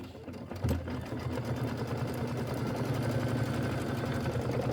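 An embroidery sewing machine runs a placement stitch for a snowman face on a decorative hot pad, its needle hammering in a fast, steady, even rhythm that carries on alone throughout.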